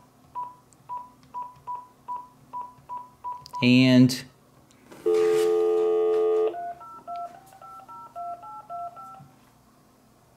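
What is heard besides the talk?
phone dialing tones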